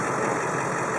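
A 2002 Bluebird E450 30-passenger school bus with a 7.3 diesel engine runs at a steady idle, producing a constant, dense rumble with no changes in pace and no speech.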